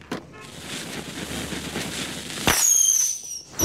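Dense crackling bursts fill the air, followed by a sharp bang and a whistling, sizzling streak, like fireworks being set off close by, in a Simpsons cartoon scene.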